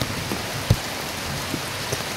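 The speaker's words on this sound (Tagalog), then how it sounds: "Umuulan na naman." Steady rain falling outdoors and pattering on surfaces, a dense continuous hiss with a few sharper drops standing out, close and fairly loud, with no voices.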